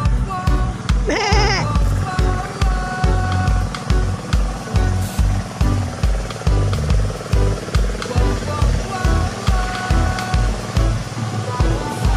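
A goat lets out a short bleat early on against constant rhythmic thumping and engine-like noise, with little else standing out.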